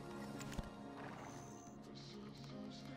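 A horse in the online video game Black Desert Online clip-clops its hooves and gives a whinny. The game sound runs steady and loud, with a sharp knock early on.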